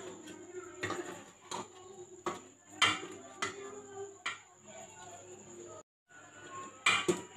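Black pepper and salt being mixed into spices in a bowl, sounding as irregular clinks and scrapes of a spoon against the bowl, with a steady high tone running underneath and a brief silent gap near the end.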